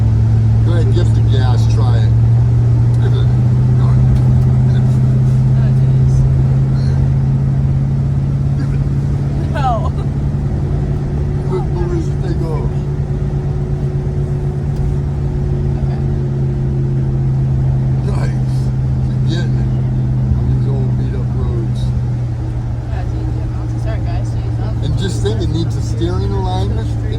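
A 1973 Dodge Charger engine drones low and steady from inside the car as it drives and accelerates, the rumble swelling slightly at times, with voices talking over it.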